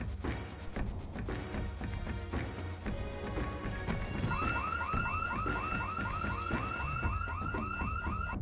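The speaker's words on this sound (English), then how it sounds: "Going down the street a short ways is another little neighborhood that had yet another house alarm for me." A house alarm in the Project Zomboid game wailing in a repeating, rising whoop pattern over a steady background hum, moderately loud and continuous.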